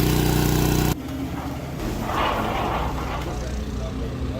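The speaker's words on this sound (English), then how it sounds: "that's sort of how the car sounds outside of the hotel every night" A Tesla charging overnight in a hotel parking lot gives off a steady, close whirring hum like a cooling fan. It starts with a tonal drone, then settles into a continuous broadband rush.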